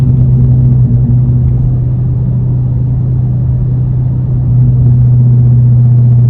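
A Dodge Charger Scat Pack cruises with a loud, steady low engine drone and road rumble heard from inside the cabin, holding an even level throughout with no talking.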